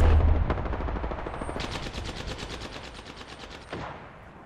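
Rapid automatic gunfire in Apex Legends, a dense, loud burst of closely spaced shots followed by sharp single cracks, fading slightly toward the end with no voices.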